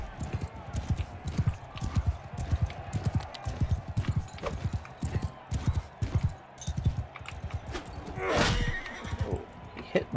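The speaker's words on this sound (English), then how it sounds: "Oh, he hit my horse." Horse in the Mount & Blade II: Bannerlord video game neighs loudly near the end, over steady clip-clop hoofbeats and battle noise, with a voice talking throughout.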